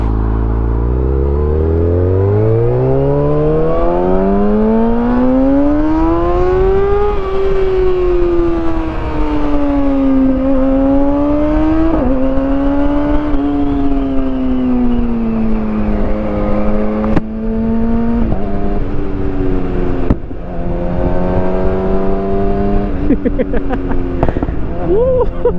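A Kawasaki Ninja ZX6R with decat headers and a Lextek SP7C exhaust, ridden on the road: the engine climbs, holds and sweeps up and down through the gears, with a few sharp cracks and pops breaking in near the end.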